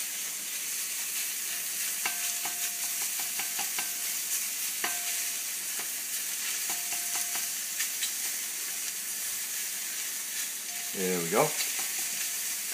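Wild mushrooms sizzle steadily in a hot pan for a ramen stir fry, with a spatula scraping and stirring in repeated strokes near the microphone, and one brief spoken phrase.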